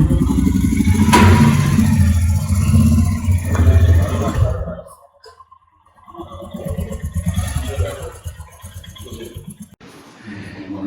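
A Royal Enfield Himalayan motorcycle idles and revs loudly up close while being pushed into a roadside hut in the Zanskar valley. The engine fades to quiet for a moment, then rumbles again with clattering and voices around it.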